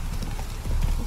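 Hooves of a racing and combat horse in The Witcher 3 clip-clop in a quick, steady rhythm, close and clear, with faint background sound.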